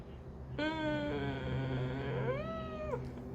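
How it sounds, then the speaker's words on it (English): A neighborhood cat lets out a single long, loud, drawn-out meow that rises and falls in pitch, heard up close and on its own. "there's a neighborhood cat that is back."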